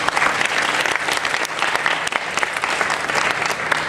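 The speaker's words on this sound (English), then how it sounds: "let's give them a round of applause for everything they're doing." Clapping for higher education professionals at a town hall meeting, a dense, steady round of hand claps from a sizable crowd that holds at an even level throughout without fading.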